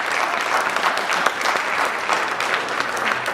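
Town hall audience applauding a councilor at a public safety meeting in Española, New Mexico, a dense, steady wash of many hands clapping at close range, sustained evenly for a few seconds with no voices above it.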